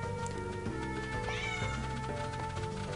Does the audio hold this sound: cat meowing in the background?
yes